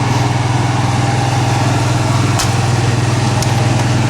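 An Onan 5,500-watt quiet gas generator runs on a 2019 Miramar 35.3 RV, a loud, steady engine drone with a constant low hum and no variation, plus a couple of faint ticks.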